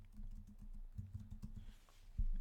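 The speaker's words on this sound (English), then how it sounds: "you can also start typing it in at the top here." Keys clatter on a computer keyboard in quick irregular bursts while someone types into a search field in spreadsheet software, close and moderately loud, with a sharper clack near the end.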